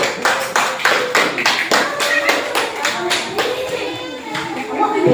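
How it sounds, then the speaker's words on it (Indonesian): Group applause for the first team in a classroom, steady rapid clapping from many hands lasting several seconds, fairly close, with faint children's voices underneath. "Mereka aplaus untuk kelompok 1"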